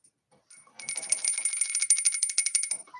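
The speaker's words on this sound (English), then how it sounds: "my other one is the biggest bell I've ever bought from Durbin" A large bell from Durbin shaken in a rapid, bright, continuous trill for about two seconds, close by with no other sounds.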